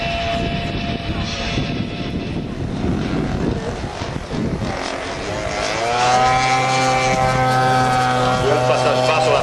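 A radio-controlled model airplane with a 58 cc engine, 2.30 m wingspan and 8.5 kg weight flies past at an air show, its propeller engine droning steadily and then rising to a loud, pitch-shifting whine as it passes close.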